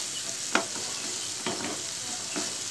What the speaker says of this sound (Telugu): మూత తీసి కలుపుకుంటూ వేయించుకుంటూ ఉండాలండి